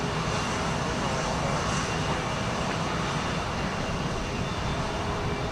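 A Boeing 757-200 jet departs for Boston from Houston Intercontinental, its engines giving a steady, loud, broadband roar that holds without a break, with no clear talk over it.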